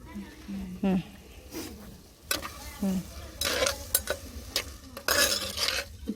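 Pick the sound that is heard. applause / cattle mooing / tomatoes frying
tomatoes frying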